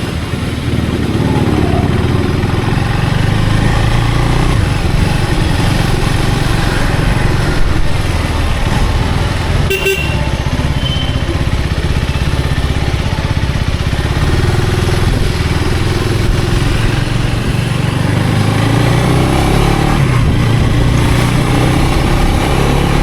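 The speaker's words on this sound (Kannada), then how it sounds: "ಇನ್ನು ಕೋಲ್ಡ್ ಸ್ಟಾರ್ಟಲ್ಲಿದೆ, ಅದರಲ್ಲ ಇನ್ನು ಹೀಟ್ ಆಗಬೇಕು. ಗಾಡಿ ಸ್ಲೋ ಆಗಿ ಬಿಡ್ಸೋಣ ಇವಾಗ." A KTM Adventure 390 motorcycle engine, still cold after starting, runs steadily close by while the bike rolls slowly through Bengaluru streets, its continuous buzzing drone rising and falling slightly, with no talking.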